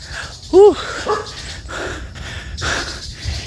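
A dog on a street in Mariveles, Bataan lets out one loud, close, whining yelp-bark, followed by quieter rustling and faint background noise.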